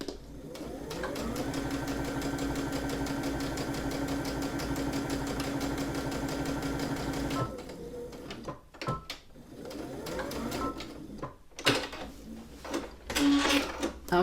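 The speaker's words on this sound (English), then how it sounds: "start sewing again" A sewing machine runs steadily, stitching fabric for a lined drawstring bag for about seven seconds, then stops; afterward come brief handling clicks and rustles as the thread is cut and the foot lifted.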